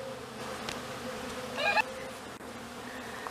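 Bees buzz softly around a flowering Texas sage bush over a steady outdoor background, with one louder buzzing pass up close for a moment.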